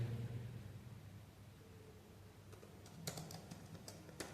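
Faint, scattered clicks of typing on a computer keyboard as git commands are entered, sparse taps growing a little busier toward the end over a low background hum.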